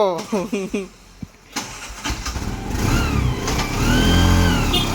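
An auto rickshaw in Sri Lanka is started and driven off. A voice speaks briefly, then the small engine sputters to life and revs up steadily, growing louder as it pulls away, with faint talk underneath.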